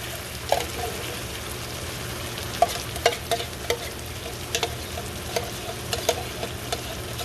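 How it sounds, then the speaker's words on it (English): Coconut milk is stirred into prohok in a pan over medium-low heat, with a soft steady sizzle and bubbling under scattered clicks and scrapes of the utensil. "We're going to mix this all together."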